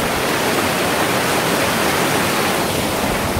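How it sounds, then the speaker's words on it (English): Venford Waterfall beside Venford Reservoir on Dartmoor rushes as a steady, dense roar of falling water, close and continuous, with no voices. "That's Venford Waterfall by Venford Reservoir."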